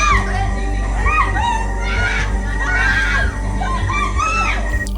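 A woman screams repeatedly for help in fear during an attack, her frantic, distressed cries rising and falling, overlapping other voices and background commotion.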